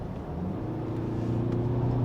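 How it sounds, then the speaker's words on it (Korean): Four-cylinder diesel engine of a 2020 Mercedes-Benz GLE 300 d 4MATIC accelerating, a low steady hum that builds slightly, heard from inside the car with no talk. "이 엔진은 사운드가 그래도 제법 좋네요"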